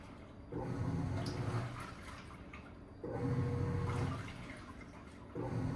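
A Black & Decker Portal portable washing machine churns through its wash cycle, the drum turning in repeated surges of sloshing water and motor hum about every two and a half seconds, separated by short quieter pauses.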